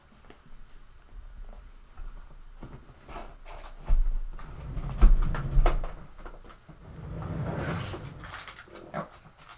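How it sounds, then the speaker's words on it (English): A nosy dog sniffs and snuffles up close, with soft whimpers, shuffling movement and a few bumps against the microphone, loudest in the middle and fainter at the start. "I'm being accosted by a nosy doggy."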